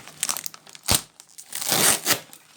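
Scissors cut through the plastic packaging of fresh grocery products, heard as close crinkling and crackling of the wrap, with several sharp snips and crunches between softer rustles.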